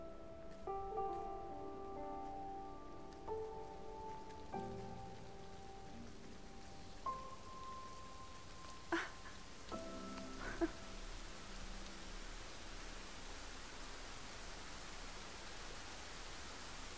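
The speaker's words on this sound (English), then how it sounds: "Oh, it's raining." Rain falls steadily as a constant soft hiss, while a few melodic tones and brief clicks sound faintly over the wash.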